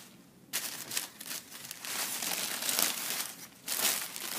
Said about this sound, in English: Got the wrapper. Just fold it off.